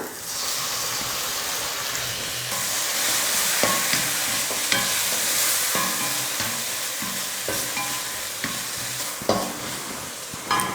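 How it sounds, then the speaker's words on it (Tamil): Large onions sautéing in a pan for a spinach palak dal, a steady broadband sizzle with repeated scraping stirs and clinks of the spatula, close and fairly loud, no voices. "இந்த அளவுக்கு வதக்கிட்டு ஒரு தக்காளி சேர்த்துக்கலாம்."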